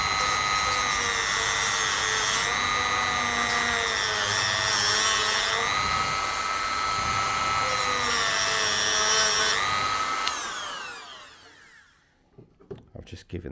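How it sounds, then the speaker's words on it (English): A power tool grinds a slot into a stuck hex screw on an RC wheel hub, a loud steady whine with pitch shifts for about ten seconds, then winding down and stopping, followed by faint clicks and handling noises. "I've just given that a little extra grind just to make sure."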